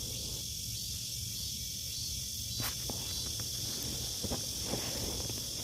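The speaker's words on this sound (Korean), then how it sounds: "시골에 매미가 막바지로 계속 우러대고 있네요" Cicadas drone loudly and continuously in the Korean countryside beside a vegetable garden, a steady high-pitched buzz with a few soft rustles and footstep-like ticks underneath.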